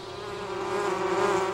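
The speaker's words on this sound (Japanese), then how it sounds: "おいき、働き蜂はもう偵察に出ているよ。" Worker bees buzzing as an anime sound effect, a steady droning hum that swells slightly louder over a second and a half, heard alone.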